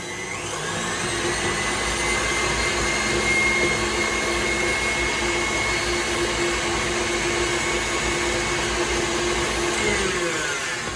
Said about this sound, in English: then we're going to mix our sugars together and our butter